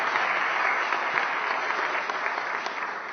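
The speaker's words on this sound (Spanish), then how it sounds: "Fuerte aplauso" Steady applause from an audience, a dense clapping patter that holds for several seconds and slowly tapers.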